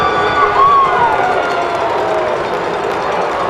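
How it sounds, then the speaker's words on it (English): A football stadium crowd at a Northern Michigan vs Saginaw Valley game roars steadily in displeasure after a controversial call, a broad sustained wash of voices with a brief whistle-like tone near the start. "this crowd is not happy with this call"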